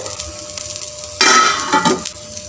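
Wheat adai dosa sizzling in a couple of spoons of oil on a pan, a sudden burst of loud crackling hiss as the oil is poured, easing after a second, over a faint background.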